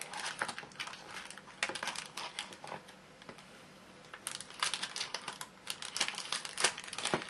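Tape is peeled off the foil inner packaging of a Power Rangers MegaForce Vrak action figure. Close, continuous crinkling and rustling comes in uneven bursts, with sharper crackles toward the end.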